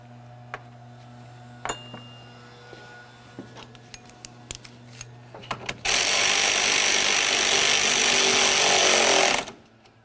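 On a 2004-2015 Nissan Titan, an upper mounting bolt for the A/C condenser cooling fan assembly goes in after a few scattered metallic clinks. A power tool then whirs loudly and steadily for about four seconds before stopping.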